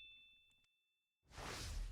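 A notification bell sound effect gives a bright, sustained ding, fades briefly to silence, then a loud rushing whoosh swells in and holds to the end.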